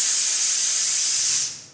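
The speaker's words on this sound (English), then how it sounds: "Go back to breathing exercises like sizzling to encourage students to have consistency." A steady hissing exhale, the sizzling breathing exercise used by brass players, holds evenly for over a second and then tapers off alone.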